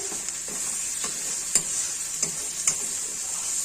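Tomato masala for a fish curry (katla kalia) frying in a pan, with steady bright sizzle and a few distinct spoon-stirring scrapes and clinks at irregular intervals, close and alone.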